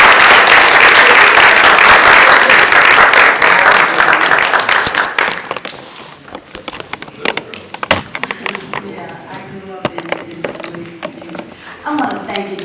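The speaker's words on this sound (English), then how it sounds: "Let's bring her up with a round of applause." A round of applause welcomes a speaker at a civil rights gathering in Louisiana: dense, loud clapping for about five seconds, then scattered claps fading under talk and room noise.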